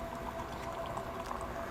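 Two parts of a compound poured together into one container, a steady bubbling, liquid wash filling the whole short stretch at moderate level with no voices.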